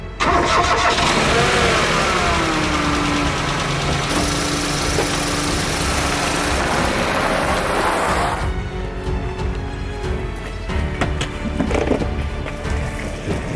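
A car engine cranks, catches and settles into a steady running hum, loud and close throughout, with no speech.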